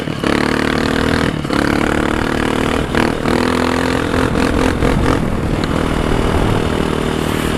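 Motorcycle ridden off-road past cotton fields, its engine loud and close throughout, revving and surging with rattling clatter and scraping over rough ground, no voices.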